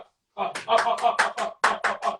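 Hands clapping in a rapid series of about eight sharp, close claps in an uneven rhythm, each a bright slap with quick decay, at a boxing match between Tyson Fury and Anthony Joshua.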